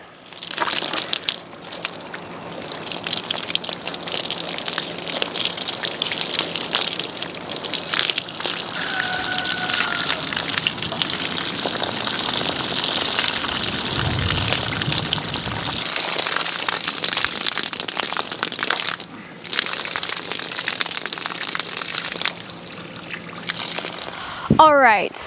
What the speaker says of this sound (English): So we're about to hose it down and see if it works or not.